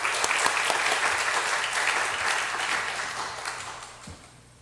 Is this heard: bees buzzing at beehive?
no